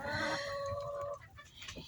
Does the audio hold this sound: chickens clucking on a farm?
yes